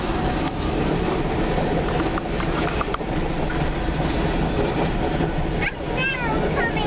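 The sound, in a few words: CN freight train boxcars passing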